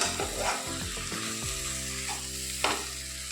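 A spinach soup mixture is stirred in a hot pan over a low-to-medium gas flame, with a steady sizzle and a few clinks of the spoon close by.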